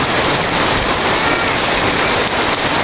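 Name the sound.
rain falling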